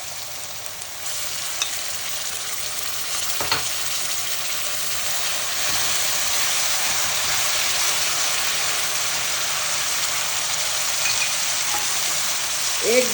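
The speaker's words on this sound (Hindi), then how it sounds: "तो ये देखिए इसमें प्याज पड़ी, इसके अंदर पड़ेगा अब दही. अब इसमें दही पड़ेगा." Yogurt going into onions frying in a pan for mutton kofta curry, a constant hissing sizzle that builds and holds, with a few clinks of a utensil against the pan.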